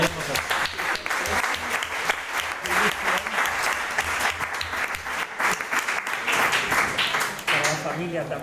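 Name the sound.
audience applause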